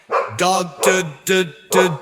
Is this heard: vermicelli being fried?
no